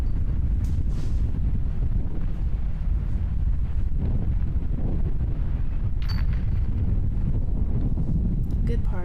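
Steady wind buffets the microphone outdoors on a disc golf course during a women's tournament round, a continuous low roar for the whole stretch, with a brief faint clatter near the end.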